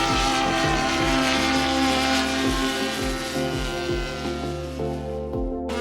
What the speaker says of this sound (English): It now enters into a loiter cycle until 12 miles is traveled by the aircraft.